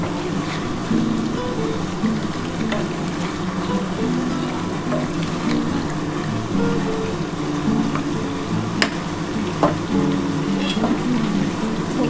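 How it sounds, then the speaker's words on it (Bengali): Potatoes sautéing in a pan for a gondhoraj chicken dish, giving a steady, moderate sizzle with occasional scraping and stirring clicks throughout. "আলুটা দিয়ে ভালো করে একটু কষিয়ে নিই"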